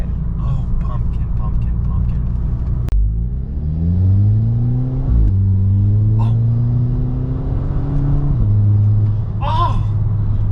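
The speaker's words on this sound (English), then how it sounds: "The DSG farts! Oh! This exhaust sounds amazing." A VW MK5 GTI with an IE intake revs hard, its exhaust rising in pitch through sweeping pulls, with crisp DSG gearbox farts on the shifts, loud and close while people exclaim over it.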